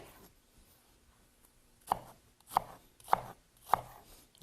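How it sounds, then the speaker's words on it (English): A knife chops through an onion on a cutting board with four crisp, evenly spaced strikes after a quiet start, close and alone. "when you go to chop the onion, you just go in, just make creases like this up to the root."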